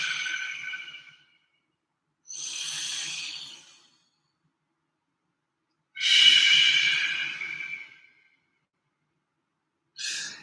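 Heavy breathing during a yoga flow, four long airy inhales and exhales with pauses between them, close to the mic and fairly loud, with no speech.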